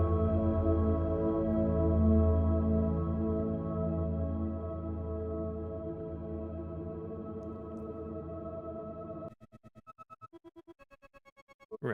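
Smooth granular synthesizer pad with prolonged grain attacks and releases, a sustained layered tone that slowly fades, then breaks into a rapid stuttering pulse of chopped grains near the end; no talk.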